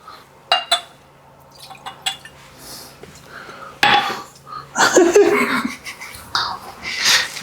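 Heaven Hill bourbon poured into a glass up close: soft clinks and handling noises lead to a short liquid splash and trickle midway, then more glass and bottle clatter.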